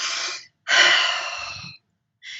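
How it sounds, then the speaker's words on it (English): A sharp, audible breath drawn in, like a gasp after hard crying, repeated with short pauses between and fairly close and loud, with no talking. "There's another breathing technique that you can do, and that's simply by breathing in."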